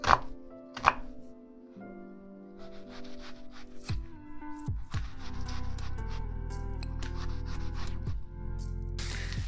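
A knife chops an onion into cubes on a cutting board in repeated sharp knocks, close up, over a steady low hum from a nearby appliance.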